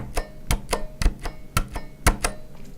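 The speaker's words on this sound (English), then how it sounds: "Here's the minus key on the keypad." Repeated presses of the keypad minus key on a Corsair Strafe keyboard with Cherry switches, about ten sharp clacks in an uneven rhythm, some doubled with a faint rattle, close and clear.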